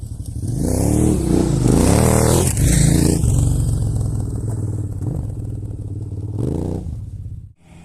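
A KTM motorcycle rides across a dusty harvested field, its engine close and loud, revving and rising, then easing off and fading near the end.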